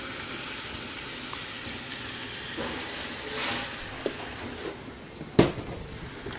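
Chopped tomatoes sizzle in a hot pan, a soft steady hiss that swells briefly, with a few sharp utensil clacks and a louder knock near the end, close and with no talk.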